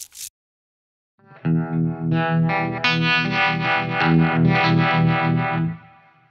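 Distorted electric guitar chords through a Supro amp's built-in gain ring out after a short pause, thick and crunchy, sustained loudly before fading at the end.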